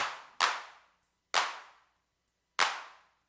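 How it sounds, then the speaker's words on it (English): Roland 808 drum machine clap sounds fire from a Eurorack modular setup, three sharp, snappy claps spaced about a second apart, each with a short decaying tail and silence between. "There's the 808 clap."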